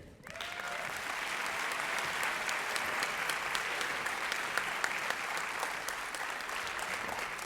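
Applause for junior academic achievers at a school ceremony, a crowd clapping steadily and briskly with individual sharp claps standing out, sustained throughout at moderate distance, no talking.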